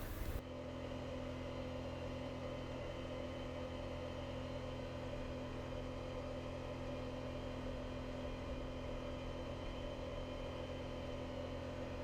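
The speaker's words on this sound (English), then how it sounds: "I'll just let you watch the rest of the driveway as I drive up through." A vehicle drives slowly up a freshly repaired gravel driveway, giving a steady, unbroken engine rumble with broadband road noise that stays constant and fairly loud throughout, with no voices.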